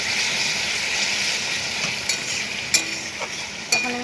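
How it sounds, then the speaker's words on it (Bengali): Spice paste frying in oil in a pan, cooked until the oil separates: a steady close hiss of sizzling, with a few sharp clinks of a utensil against the pan toward the end and no voices. "দেখুন বন্ধুরা, মশলাটি এখানে তেল ছেড়ে দিচ্ছে।"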